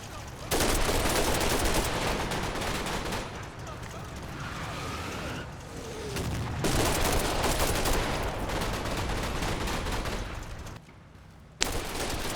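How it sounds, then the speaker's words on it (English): Suppressive gunfire from the Combat Mission war game, bursts of rifle and machine-gun shots rattling in rapid volleys over several seconds, with a voice talking over the shooting. "We immediately start with suppressive fire."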